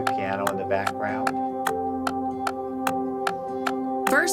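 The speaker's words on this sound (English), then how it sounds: "You can hear the piano in the background." A worship keyboard part for the song Morning By Morning sustains a steady drone and held chords, with piano in the background. Short, bright percussive ticks land at an even rhythm across the passage.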